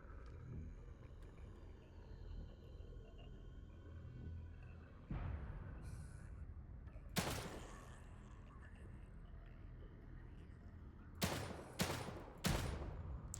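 Gunfire in the horror video game The Evil Within 2, a few sharp shots spaced apart and then a quick burst of three, over low game ambience, with no talk.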